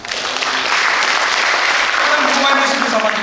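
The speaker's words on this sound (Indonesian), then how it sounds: "Tepuk tangan buat Tuhan." A church congregation at a Sunday service claps hard in a dense, continuous wave of applause that fills the hall, with a voice faintly heard underneath.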